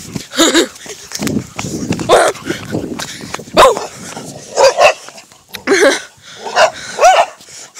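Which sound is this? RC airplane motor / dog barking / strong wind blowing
dog barking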